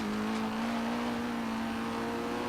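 A Nissan S14 race car engine in Forza Horizon 3 revs and accelerates with a steady, rising drone, loud and continuous with no talk.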